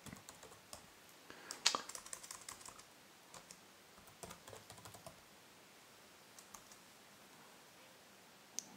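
Late-night typing on a computer keyboard while programming: faint, scattered key clicks in short bursts with pauses between, a few louder taps standing out in an otherwise quiet room.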